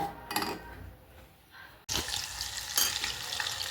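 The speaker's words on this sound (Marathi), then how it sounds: "आता मी याला वितळून घेते गॅसवर. हे बघा इकडे तूप आपलं वितळलं आहे." Butter melting into homemade ghee in a pan on a gas stove, a soft sizzle and bubbling hiss that grows louder and brighter partway through, with no talking.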